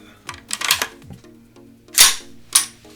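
An AR-15 rifle's hammer dry-fires with sharp mechanical clicks after the weapon is checked empty, several close metallic snaps and clacks of handling spread across a few seconds, with no talk.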